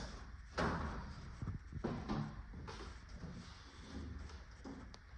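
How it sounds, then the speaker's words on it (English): A sliding compartment door rattles and bumps a few times as it is tugged, with scraping and knocking in a quiet, slightly echoey space. "I never even tried sliding this door here for the compartment."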